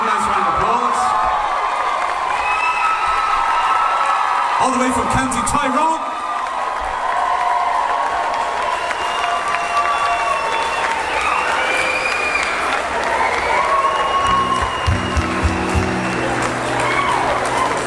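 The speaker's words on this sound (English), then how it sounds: "Nice round of applause." A concert crowd at a show applauds and cheers loudly and steadily for a guest joining on stage, with whoops rising through the clapping and an amplified voice speaking over it.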